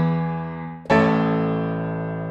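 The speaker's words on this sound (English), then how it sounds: "So the pedal up sounds like this" A 1930s London upright piano sampled with the sustain pedal up: a held chord rings and decays, then a fresh chord is struck near the middle, bright and close, fading steadily without extra resonance.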